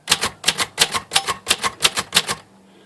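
Keys strike on a Royal Safari Aristocrat typewriter: eight brisk, evenly spaced clacks, close and loud, with a faint tinny metallic ring, then quiet.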